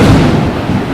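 A bomb blast in Dubai lands nearby, a heavy, loud burst of broadband rumble that fills the brief moment and rolls on without pause, with no voices.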